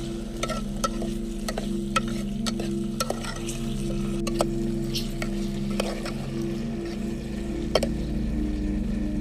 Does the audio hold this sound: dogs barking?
no